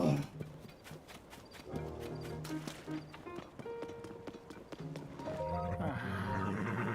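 Horse neighing with clip-clopping hooves in the video game Zelda: Tears of the Kingdom, a clear whinny over steady hoof beats and in-game music.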